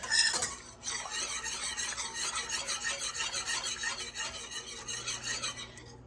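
A whisk stirs gravy for sage pork chops in a pan on the heat, a brisk scraping, rasping rhythm of metal against the pan running continuously, close and fairly loud, with a clink at the start.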